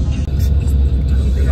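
A car passes on a road near Valfarta, on the way to the 2022 Monegros Desert Festival in Spain, as a loud, close engine rumble that fills the moment, with voices over it.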